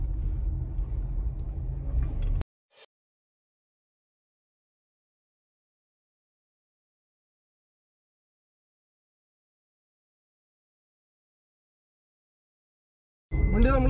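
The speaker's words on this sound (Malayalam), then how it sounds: "ഓട്ടോമാറ്റിക്കായിട്ട് വണ്ടിയുടെ ഗിയർ ഷിഫ്റ്റായിട്ട് കൊണ്ടിരിക്കുന്നുണ്ട്" A Maruti S-Presso with an AMT automatic gearbox is driving: a low engine and road rumble for about two seconds, then near silence, then the drone returns loudly at the end.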